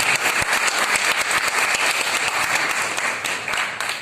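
Brisk audience applause welcoming a guest at a foundation event, crisp closely spaced claps forming a loud, even burst that tapers slightly near the end.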